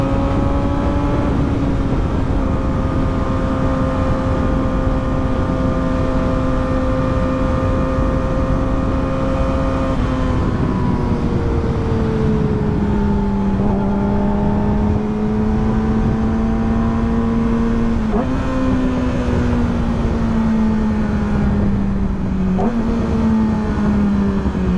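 A loud motorbike engine drones steadily up close for the whole stretch, its pitch sliding down and rising again as the throttle shifts, its sound bouncing off a nearby wall.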